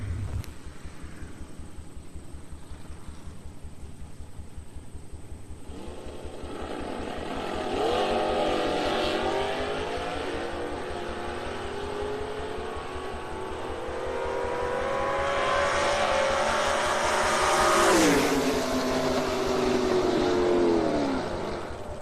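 Drag racing cars, a 1979 Corvette 350 with a four-speed and a 1992 Camaro 327, idle at the line and then rev hard and launch, engines roaring loudly with rising shifts before fading as they pull away.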